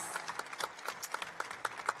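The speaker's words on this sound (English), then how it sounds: "Give him a round of applause" Applause at a women's health panel event, a round of claps rippling through the room, moderately loud with dense broadband hits and no talking over it.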